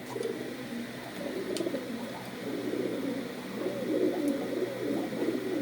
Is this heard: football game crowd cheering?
no